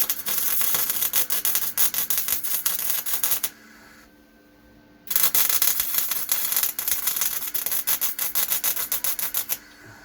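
A steel plate is welded onto a grab bucket, giving a loud crackling, buzzing arc with dense rapid pops that runs continuously, stops for about a second and a half, then resumes at full strength.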